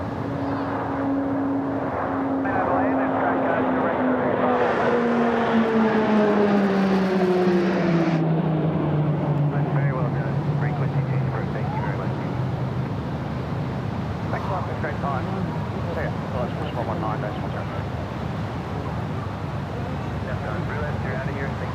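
Yak 110 aircraft flying a display at the Pacific Airshow Gold Coast over Surfers Paradise, its engine drone sweeping down in pitch as it passes at a distance, over steady crowd and wind noise.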